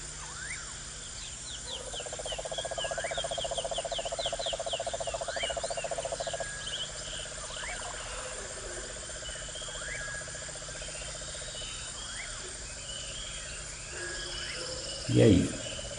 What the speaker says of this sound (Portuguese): vamos ter aqui, né, o som de uma floresta